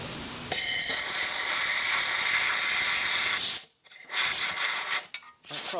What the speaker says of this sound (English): So what I might do is get my air here, just give that a little clean blow